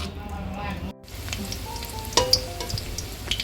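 Chicken pieces shallow-frying in a little oil for Naga chicken, a steady close sizzle and spatter with a brief dropout near the start and a few sharper pops later.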